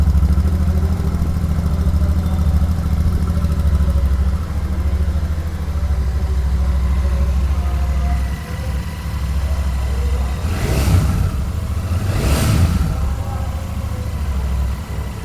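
A 2024 Royal Enfield Super Meteor 650 BS7 cruiser with dual exhaust idles with a deep, steady, close rumble, later joined by two brief rising bursts, while someone talks over it.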